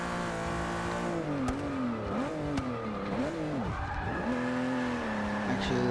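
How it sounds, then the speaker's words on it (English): A car drifting in the racing video game Forza 6: a sustained, loud tire squeal wavers up and down in pitch over a revving engine, continuous and up close with no talking. "Yeah, maybe I can drift in this car."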